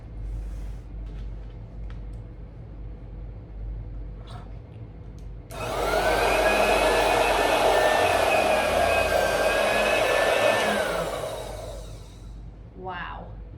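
An electric sewing machine stitches through thick, stiff tan harness leather, a loud, steady motor whir lasting about six seconds before winding down, with quieter room noise before and after.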